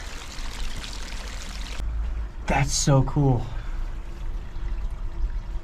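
Hot spring water flows steadily out of softened ground in winter, a continuous pouring rush that drops away partway through, with a person briefly speaking over the quieter remainder.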